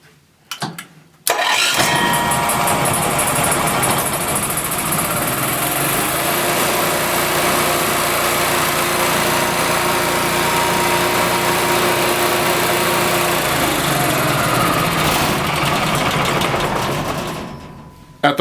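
A small engine cranks and fires, then settles into a loud, steady high-pitched buzzing run held close for about fifteen seconds before cutting off.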